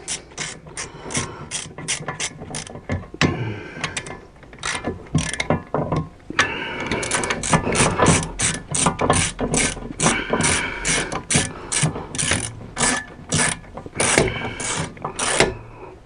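A hand ratchet tightens bolts on the brakes of a Dodge Nitro, clicking in rapid bursts of close, loud pawl ratcheting broken by short pauses.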